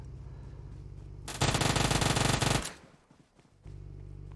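A long burst of rapid automatic gunfire in a video game match, loud and dense, followed by quieter sounds with a low engine hum before and after.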